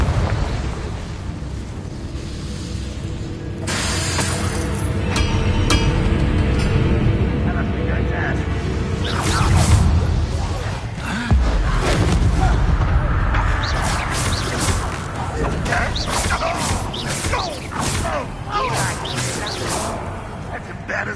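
Confringo explosive spell cast in the video game Hogwarts Legacy, booming blasts and crashes with whooshing bursts over a rumbling background, with voices speaking amid the noise.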